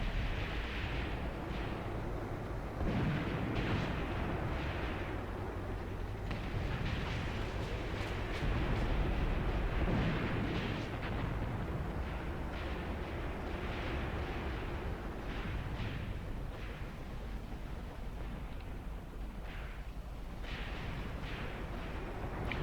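Artillery fire in the Graviteam Tactics war game, a continuous rumble of distant shell bursts and booms rolling in repeated waves at a moderate level, with no talk over it.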